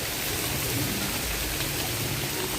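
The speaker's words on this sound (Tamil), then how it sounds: "நல்ல மழை." Heavy rain pouring down in a mangrove forest, a thick unbroken roar of drops striking water and foliage, loud and steady with a low rumble underneath.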